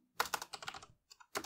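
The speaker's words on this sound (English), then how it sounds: "beneath that, I'm going to type in" Typing on a computer keyboard while entering an email server configuration line, a quick run of close, crisp key clicks with a short pause before a final burst.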